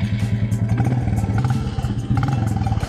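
A Royal Enfield Bullet J Series motorcycle engine idles nearby with a steady, even low thump and a faint mechanical clatter on top.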